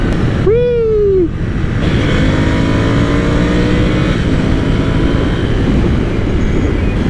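A Ducati Scrambler Cafe Racer motorcycle accelerates hard, its engine pitch climbing through the gears in a loud, close, sweeping rise, with rushing wind over it.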